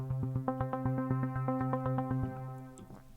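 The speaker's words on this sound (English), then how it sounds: "then arpeggiator, and this is set at a 16th speed and sounds like this" Fast Omnisphere synth arpeggio cycling steadily through notes in even sixteenth-note steps, bright and close, running alone before fading out near the end.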